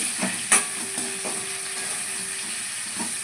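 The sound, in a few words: potatoes frying in a pan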